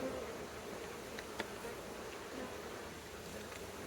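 Honey bees buzz in a dense, continuous hum during a hive inspection for swarm cells, steady and close without a break.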